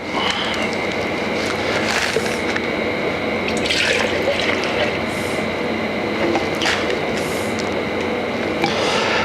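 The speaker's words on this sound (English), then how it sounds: "let's go ahead and pour this finish into the pot" Wood finish is poured from a can into the pot of a Fuji sprayer, giving a steady liquid filling sound with faint splashes and a few light clinks, close and continuous throughout.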